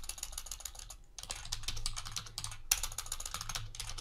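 Rapid clicking of keys being typed on a computer keyboard, close and steady, with a brief pause near the start and no talking.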